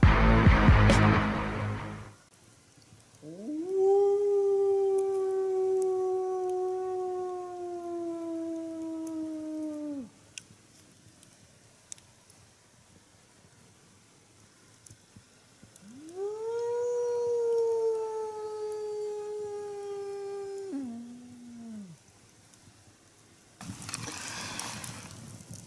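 A man on a hiking and bivouac trip on the Cavillore plateau imitates a wolf howl with his voice, giving two long, loud, sustained howls with rising starts and falling ends, separated by quiet outdoor pauses, with no reply.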